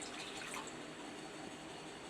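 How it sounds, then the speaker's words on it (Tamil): A jug of water is poured into a cooking pot, making a steady, quiet rushing splash that carries on without a break. "இப்போ ஒரு சொம்பு தண்ணி நம்ம இதில் சேர்த்துக்கலாம்."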